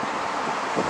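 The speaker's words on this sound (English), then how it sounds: "It's a bit windy today" Steady wind buffeting the microphone outdoors by the ferry port in Busan, a dense, close rushing noise lasting about a second with no talk.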